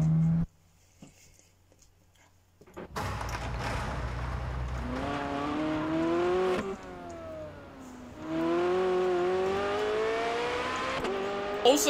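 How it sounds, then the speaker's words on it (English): Car engine in the Test Drive Unlimited 2 video game starts with a thump after near silence, then revs and accelerates in rising gear-shift sweeps, loud and close, with no talking. "Oh, the engine sounds are good in this game."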